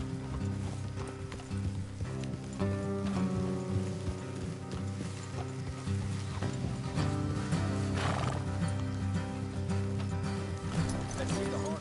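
Horses in the Red Dead Redemption 2 video game neigh and clop their hooves on the move, with rain falling, a musical score and people talking over the top throughout.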